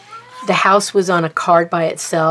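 A house cat meows during indoor talk, its short, rising cries partly masked by the nearby speaking voice.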